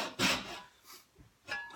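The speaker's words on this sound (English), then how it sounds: "let's saw that away. Back to my favourite little Wenzloff saw." Short strokes of a small Wenzloff hand saw cutting dovetails in wood, three rasping bursts spaced apart, close and fairly quiet.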